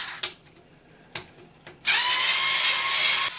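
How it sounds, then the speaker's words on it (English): A Black & Decker electric screwdriver removes screws from an ARRMA Senton 4x4 RC short course truck, first a few soft clicks and then a close, steady high whir running for about a second and a half. "I have these Integy little driver set that is great with this simple Black & Decker screwdriver."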